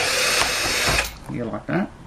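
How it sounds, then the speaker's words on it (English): Power drill boring through a fixing hole, a loud steady whine for about the first second that then stops, followed by close speech. "We're going to drill through"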